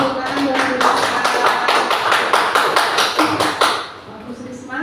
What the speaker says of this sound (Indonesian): Beri tepuk tangan buat Bu Lisa.